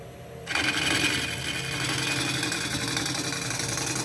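Wood lathe starts up after half a second of quiet, then hums steadily while an Irish-grind gouge rough-turns the outside of a bowl, giving a continuous close buzzing cut with no talking.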